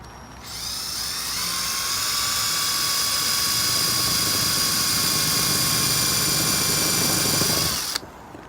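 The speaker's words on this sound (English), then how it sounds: "First, I'm going to go through and put in the holes, getting ready for the screws" A power drill bores screw holes in wooden shutters, a steady high-pitched whine running unbroken for several seconds before cutting off, close and loud with no voices.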